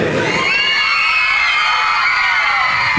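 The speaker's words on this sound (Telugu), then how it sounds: "గట్టిగా చప్పట్లు, ఈలలు, మీద ఏదొస్తే చేయండి" Parents and children in an audience whoop, cheer and whistle for a children's dance performance, a loud sustained burst of shrill shouting and whistles throughout.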